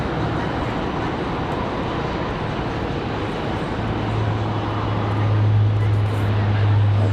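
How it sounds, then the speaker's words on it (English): Saab 2000 turboprop airliner moving at Raleigh-Durham International Airport, a continuous engine drone with a low propeller hum that swells louder toward the end, heard under someone talking. "Sounds like that Saab 2000 getting a move on"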